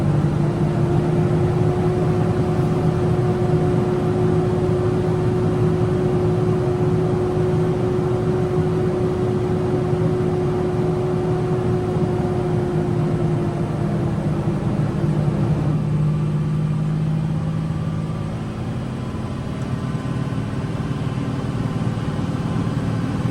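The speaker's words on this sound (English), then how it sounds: "You guys can probably hear that the engine's howling." A heavy, loaded truck engine drones loudly and steadily on a narrow canyon road, its strained howl holding a constant pitch before easing slightly near the end.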